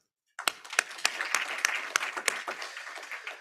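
An audience in a hall bursts into applause for a professor at an inaugural address, with dense, steady clapping close by that starts abruptly and continues for several seconds.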